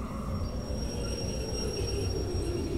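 Train wagons braking in the video game Derail Valley, a steady rolling rumble with a thin, high metallic squeal held throughout, no talking.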